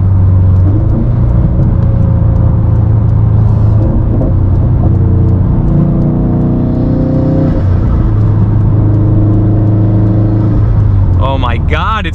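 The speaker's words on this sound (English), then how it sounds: "It's so freaking good to drive this car again." A 400whp E85 Subaru STI with a blue turbo drives along, its engine droning loud and steady with pitch rising and falling through gear changes while someone talks over it.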